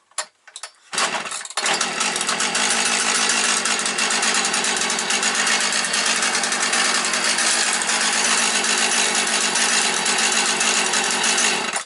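A cold Partner 350 chainsaw's small two-stroke engine catches on choke after a couple of sharp pulls, then runs continuously at a loud, steady rattling idle close by, around 0 degrees.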